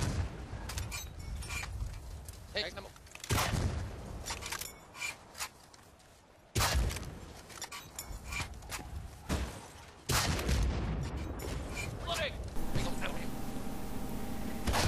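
A Carl G rocket launcher fires repeatedly at a tank in Battlefield Bad Company 2, several sharp booming blasts spaced across the stretch, each followed by decaying rumble, with a narrator talking between shots.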